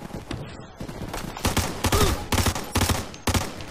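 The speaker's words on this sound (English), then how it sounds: "I'm shooting people and hitting them with like 2 damn bullets" Gunfire in the Ghost Recon Future Soldier multiplayer video game comes as a string of loud, close bursts, several rapid volleys separated by short gaps.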